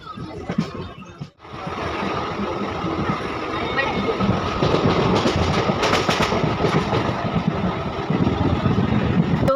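Heavy rolling rumble and rattling clatter of a train pulling into a crowded platform at a busy station, loud and close, with a dense crowd murmuring and talking throughout after a brief dip near the start.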